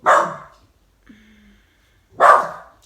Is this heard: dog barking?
yes